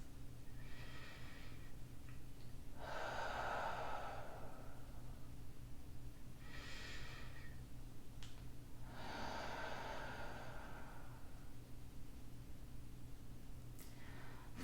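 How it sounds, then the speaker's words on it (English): Slow, deep breaths during a gentle beginner yoga session: soft, airy inhales and exhales come several seconds apart over a steady low room hum, close and quiet, with no talking. "taking nice deep inhales and exhaling, imagining that breath traveling to that space where you're feeling tension"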